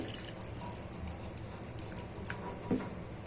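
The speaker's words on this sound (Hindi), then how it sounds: "पानी डालेंगे।" Water is poured steadily into a pot of mashed dal, a continuous splashing stream with a faint clink near the end.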